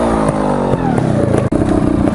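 A trials motorbike engine idles close by, then is revved in quick blips, loud and rough with a brief dip between bursts.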